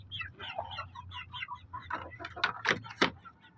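A Talisayin hen clucks close by in a backyard, a run of short soft clucks that build into sharper, louder calls, with faint background rumble.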